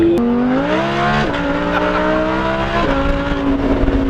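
Loud Lamborghini Huracan with a Ryft aftermarket exhaust revving in repeated bursts, the engine note stepping up and dropping sharply between blips, close and aggressive, no voices.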